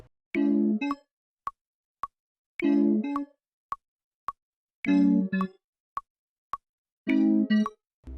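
A keyboard plays a chord followed by a quick single root note, repeated four times in a 2000s R&B beat, with sharp regular percussive ticks between, clean and alone.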